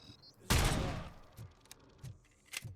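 Gunfire in the video game RoboCop: Rogue City: one loud, close burst of shots that decays over about half a second, followed by a few fainter scattered pops and thumps.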